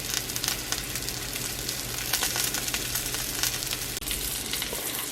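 Salmon fries in a pan with a dense, continuous sizzle and scattered crackling pops, steady and close, with no speech.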